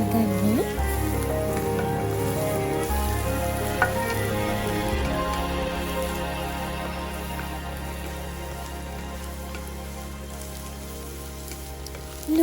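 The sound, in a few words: onions and curry leaves tempering in oil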